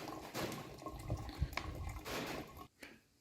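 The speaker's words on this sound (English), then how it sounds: "Squeeze the bottle." Water squeezed by hand from a bottle through a portable filter on a hiking trail, a steady trickling, splashing flow that runs close and continuous for a few seconds before cutting off abruptly.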